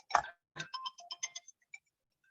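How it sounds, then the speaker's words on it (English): A phone ringtone for an incoming call plays during a podcast recording, a short melodic jingle of bright electronic tones, one longer burst followed by a quick run of evenly spaced notes, close and clear with no talk over it. "Phone call, but not taking it."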